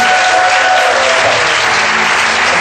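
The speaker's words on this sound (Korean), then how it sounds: "한번 더 박수 하시겠습니다." Loud, sustained applause from a congregation at a Korean Sunday church service, steady clapping from many hands filling the room throughout without a break.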